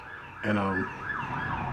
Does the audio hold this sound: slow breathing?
no